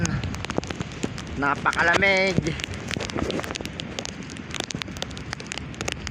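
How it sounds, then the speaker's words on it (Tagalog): Heavy rain falls at sea, a steady hissing patter on surfaces around a fishing boat out for lobster, with someone speaking briefly over the downpour. "Grabe, lakas ng ulan."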